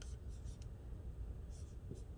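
A marker or chalk writes on a board in short, faint scratchy strokes, a few quick bursts early and a couple more later, against a soft, low background murmur.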